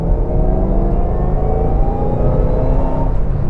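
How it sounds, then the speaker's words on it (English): A Shelby Mustang engine accelerates hard on a road, heard from inside the car as a loud, continuous roar whose pitch climbs steadily, with no talking. "you get that awesome noise that you really only get from a Shelby"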